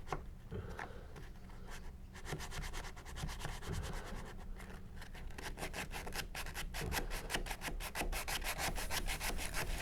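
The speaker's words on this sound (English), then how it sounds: "And you know how much I really love sanding." Wood on a boat's foredeck being hand-sanded, with steady rhythmic back-and-forth rasping strokes that quicken and tighten toward the end, fairly quiet and close, with no talking.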